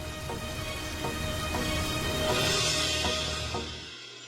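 Steady rain hisses throughout, with faint intermittent tapping of drops on a surface, fading slightly at the very end.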